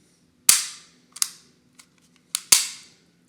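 An HK USP 45 pistol is dry-fired to check trigger function, giving a few sharp, close metallic snaps and clicks, two loud and several lighter, with silence between them.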